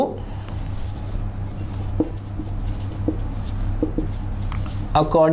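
A pen or marker scratches out strokes on paper or a board during a Hindi-language math lecture on quadratic equations, with short scribbling bursts over a steady low hum and faint room noise.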